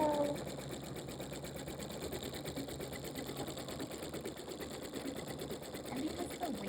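Pfaff Creative 3.0 embroidery machine stitching a heavy quilt, a rapid even mechanical chatter running steadily and close throughout, with a faint voice beneath it.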